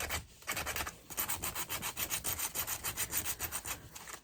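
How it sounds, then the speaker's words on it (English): Hand sanding to distress a scrap wood Christmas tree, with rapid rhythmic back-and-forth rasping strokes close up, steady and even after a brief pause near the start, no speech. "I'm going to finish distressing this some"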